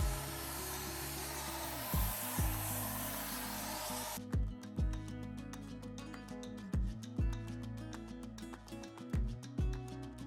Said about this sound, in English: this time I'm going to turn my nozzle horizontally and spray from left to right